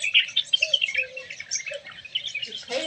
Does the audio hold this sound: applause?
no